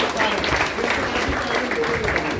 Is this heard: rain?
no